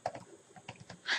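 A short run of quick, light keystrokes on a computer keyboard as a search word is typed into Google, close and fairly quiet, with several taps and no talk.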